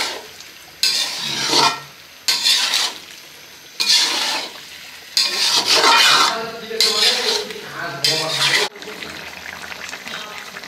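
Spice masala is stir-fried in a pan, with bursts of loud scraping and rasping stirring strokes over a sizzle; the strokes come in separate spells, with quieter gaps between them.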